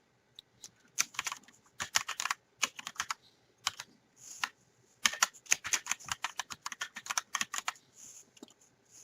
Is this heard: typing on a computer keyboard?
yes